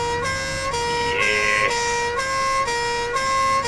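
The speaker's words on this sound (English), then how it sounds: "it does have the delicious old two-tone horns," Two-tone horns on an ambulance-type emergency vehicle in the video game GTA V blare loudly, alternating high and low tones in a steady repeating rhythm with no voices over them.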